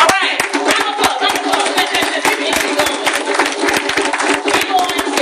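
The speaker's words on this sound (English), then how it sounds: "Round of applause." Audience applause at a community talk, lively close clapping from a crowd with a few cheers mixed in, holding strong for several seconds.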